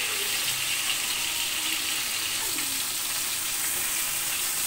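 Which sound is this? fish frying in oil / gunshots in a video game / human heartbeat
fish frying in oil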